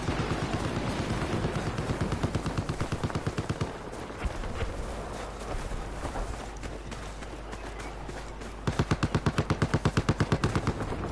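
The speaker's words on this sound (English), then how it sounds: "Just east of where you're at, there appears to be a hostile machine gunner." Battlefield 4 machine guns fire in long, rapid bursts of sharp evenly spaced shots, loud and close, with a gap of rumbling battle noise between the first and second volleys.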